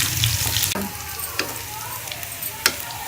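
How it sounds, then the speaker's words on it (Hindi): Steady crackling sizzle of garlic frying in hot ghee, with a few light clicks of stirring. "लहसुन डाल के मैं इसको ब्राउन कर लूँगी।"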